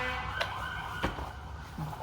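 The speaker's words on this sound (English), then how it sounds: "It seems like every video I do, there is another siren." An emergency siren wails faintly on a city street, a steady distant tone with a few sharp knocks nearby and no talking.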